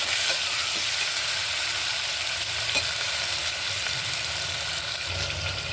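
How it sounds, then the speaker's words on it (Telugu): Tomatoes and curry leaves fry in a pan with a steady, close sizzle. Occasional scrapes and stirs of a utensil sound against the pan, with no talking. "ఇప్పుడు టమాటాలు వేసుకుందాం. దీంట్లోనే కొద్దిగా కరివేపాకు, ఇది కూడా బాగా ఫ్రై చేస్తున్నాం."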